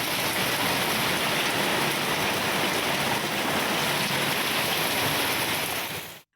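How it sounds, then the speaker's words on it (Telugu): Heavy rain pouring steadily and loudly across Hyderabad city streets, a dense unbroken hiss with no voices, cutting off abruptly at the end. "నారాయణగూడ, హిమాయత్ నగర్లో దాటిగా వర్షం పడింది."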